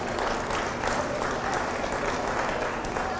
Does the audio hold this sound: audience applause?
yes